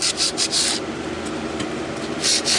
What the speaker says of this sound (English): I just scuff up my belt a little bit